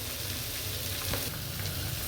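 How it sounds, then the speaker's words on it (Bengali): Fish frying in oil, a loud, even crackling sizzle that runs without a break and is heard alone, with no talking. "আর মাছটি ভাজা হয়ে যাচ্ছে।"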